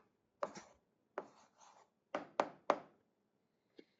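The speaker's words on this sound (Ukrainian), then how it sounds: "записуємо відповідь, пишемо відповідь" Pen strokes writing an answer by hand on paper during an algebra exercise, a handful of short close scratchy strokes in quick bursts with small gaps, quiet and without talk.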